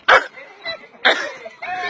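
A tired dog gives short yips and whimpering barks, two louder bursts separated by softer whines, close by with a person's voice mixed in.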